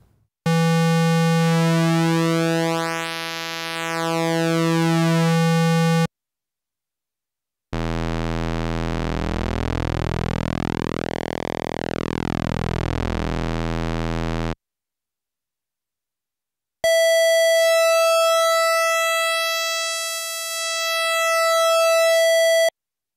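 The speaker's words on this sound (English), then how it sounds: "Square wave sounds like this." Korg monologue synthesizer square wave with the pulse width being varied, three held buzzy tones at separate pitches whose timbre sweeps thinner and fuller as the shape changes, with short gaps of silence between them.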